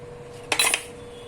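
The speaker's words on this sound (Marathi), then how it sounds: "हळद घालणार आहे, तिखट घालायचं तुमच्या आवडीप्रमाणे" Turmeric and chili powder spooned into a bowl of besan batter, heard as a brief cluster of light clinks and scrapes of a spoon against the bowl, close and fairly soft, with no talking.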